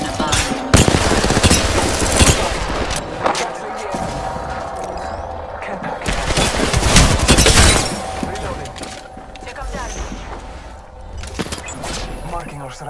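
Apex Legends gunfire crackles in rapid bursts and sustained volleys, loud and close, with louder peaks between short pauses, and game voices now and then.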